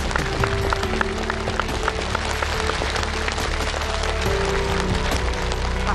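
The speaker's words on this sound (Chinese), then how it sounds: "这位大家应该都知道是谁了，我们掌声欢迎他" Loud, dense applause from a studio audience on a television stage greets an arriving 62-year-old grandmother guest, a steady clapping roar filling the whole stretch with no break.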